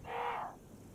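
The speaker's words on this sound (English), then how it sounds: "There's crows." A crow in the video game Resident Evil (2002) lets out a single harsh, raspy caw that fades out within half a second, leaving near silence.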